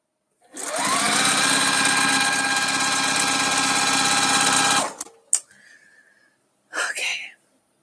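Fast sewing machine stitching gingham fabric in a close, loud continuous burst of about four seconds, then stopping, followed by a few brief clicks and a short rustle.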